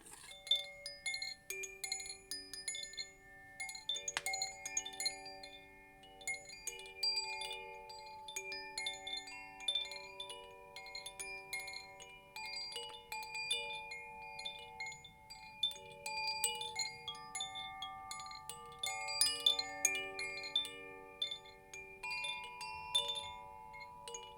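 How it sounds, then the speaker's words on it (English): Gaia chimes ring in overlapping, sustained bell-like tones that shimmer and decay continuously, with no voices over them. "So I'm using some Gaia chimes right now."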